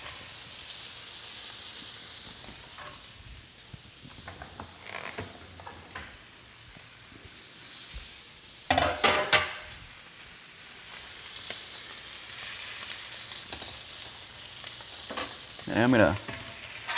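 Skirt steak frying in oil in a pan: a continuous loud sizzle and hiss with occasional bursts of crackling and scraping as the meat is moved and oil is spooned around.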